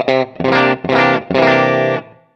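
Clean electric guitar tone through a Mooer Micro Preamp straight into a desk, four strummed chords in a row, each ringing loud and full before cutting off, the last one decaying away.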